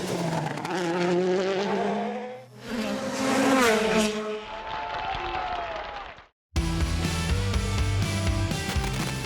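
Audi Quattro rally car tearing past in a WRC-style rally stage, engine note rising and swelling loud and close in bursts, then a brief gap before another stretch of busy engine and crowd-like noise.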